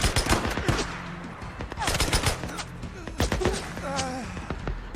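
Gunfire in Days Gone during an ambush camp fight: repeated sharp shots and bursts run through the whole stretch, with brief voice-like tones and game sounds mixed in.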